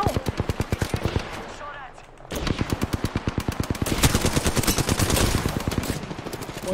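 Gunfire in Apex Legends, rapid sustained automatic weapon bursts firing in a fast steady rhythm, loud and close, with a brief pause before firing resumes, under a player talking.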